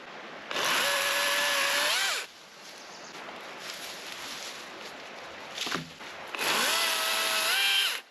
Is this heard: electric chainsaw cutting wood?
yes